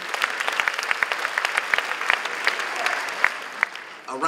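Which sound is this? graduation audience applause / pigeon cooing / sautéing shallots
graduation audience applause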